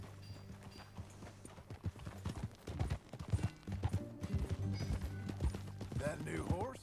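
Steady clip-clop of horse hooves at a walking pace in the video game Red Dead Redemption 2, close by, with a low background drone and a short whinny near the end.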